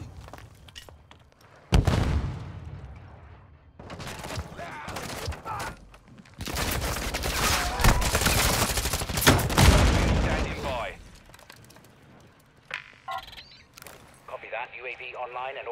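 Call of Duty: Modern Warfare II gunfire: loud sustained bursts of automatic fire and explosions, with shorter volleys before and after, mixed with game sound effects and radio-style voices.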